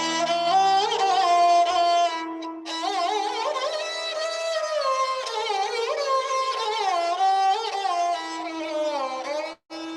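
Solo sarangi playing raag Todi, a continuous bowed melody with gliding, ornamented notes over a steady drone, close and clear, with one brief pause near the end.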